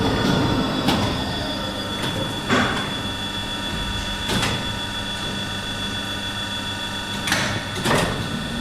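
A Schindler lift's DC motor-generator set (dynator) runs steadily, supplying 355 volts DC to the main lift motor. It gives a constant humming drone with a high, even whine, broken every second or two by short broadband clunks and rushes.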